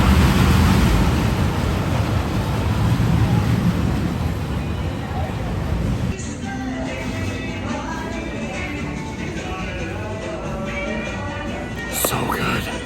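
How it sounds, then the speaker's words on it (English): Strong wind roars and buffets the microphone in a dense, steady rush at the Cedar Point amusement park, easing slightly midway but continuing throughout, with faint voices underneath. "It is still very windy right now"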